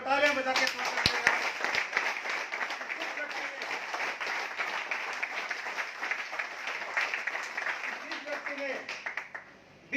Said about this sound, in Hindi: एक बार तालियां बजा के स्वागत करेगा